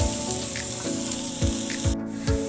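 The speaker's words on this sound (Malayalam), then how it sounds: "ഇനി അതിലേക്ക് എണ്ണ ഒന്ന് ചൂടായി കഴിയുമ്പോൾ അതിലേക്ക് 2 മീഡിയം വലുപ്പത്തിലുള്ള സവാള ഇതുപോലെ ചെറുതായി കട്ട് ചെയ്തത് ഇട്ട് കൊടുക്കാം" Two medium onions, finely chopped, sizzle in hot oil in a pan, a steady loud crackling hiss with periodic thumps and scraping as they are stirred.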